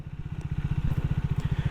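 A Triumph Thruxton 400 motorcycle engine, 2025 model, pulsing at low revs during a slow U-turn, a close, steady thumping beat heard alone.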